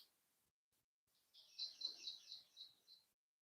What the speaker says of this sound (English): Only thing you can hear is the cows grazing and the birds chirping some beautiful melodies.